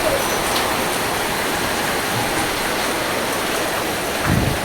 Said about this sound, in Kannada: ಬರಾಬರಿ ಮಳೆ.